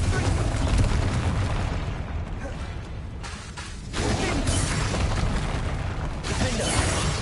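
Spell explosion from the fire-blast charm Confringo in Hogwarts Legacy gameplay, a dense, loud burst with rumbling crackle that surges, briefly eases, then swells again over busy game audio.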